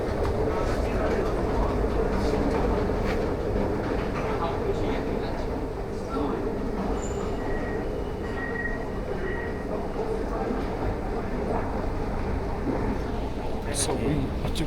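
A train pulls into a large underground station in Malaysia, a continuous loud rumble of wheels and carriages with faint brake squeals and clicks, mixed with talk and station crowd noise.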